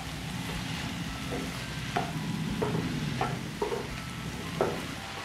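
A spatula stirs tomato bhaji seasoned with sugar and salt in a pan, giving a few distinct scrapes over a low, steady sizzle, with no talking.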